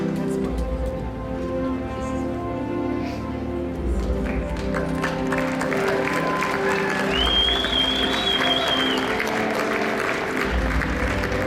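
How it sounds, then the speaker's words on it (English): Audience applause at a large convention hall as a district group walks on stage, steady clapping mixed with music and crowd noise throughout. "let's give them one clap as they come out on stage"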